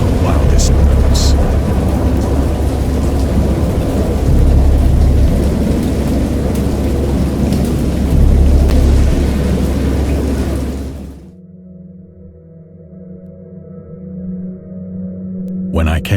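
A wild thunderstorm of heavy, dense rain with deep rolling thunder roars loudly and continuously for about eleven seconds, then cuts off abruptly to a quieter, hollow, tonal background.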